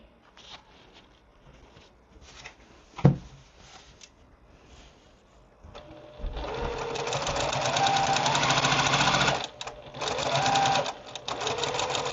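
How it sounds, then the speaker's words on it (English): A sewing machine stitches the top and bottom rows of a beginner pinwheel quilt block together, running steadily and close for several seconds after a few quiet handling sounds and a sharp knock. "we're just going to sew those two together and our pinwheel will be done"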